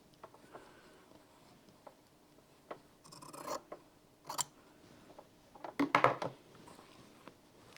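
Scissors cutting quilt fabric for a quilt-as-you-go cushion cover: quiet, scattered crisp snips and rasping slides, with a denser cluster of cuts near the end and no talking.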